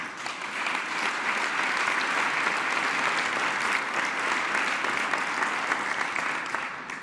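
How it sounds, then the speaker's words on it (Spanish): Sustained applause from a large crowd at a Mexican presidential minimum wage announcement, dense and steady for several seconds before tapering slightly at the end, with no voices on top. "Un aplauso también para todos ellos"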